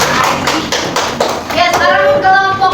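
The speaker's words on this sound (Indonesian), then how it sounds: "tepuk tangan untuk kelompok anggur" A grade 5 class claps for a student group during a micro-teaching science lesson, with a ragged burst of hand claps up front that gives way to voices and tonal sound toward the end.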